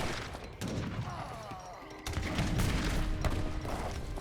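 Culverin cannons fire in a black-powder era strategy game battle, a dense rumbling fusillade of booms and thuds layered under ongoing gunfire, with a sharper burst about midway.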